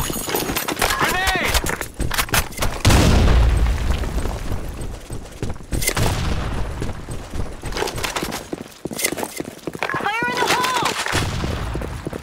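Grenade blast in the Blackshot first-person shooter game, a deep boom amid dense rapid gunfire and metallic clatter, loud and close, with game voices calling out over the fighting.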